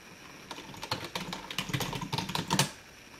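Quick bursts of keystrokes on a computer keyboard while a terminal command is typed into Ubuntu Linux on an MK802 IV LE mini PC, close and crisp clicks in an uneven rhythm, with no voices.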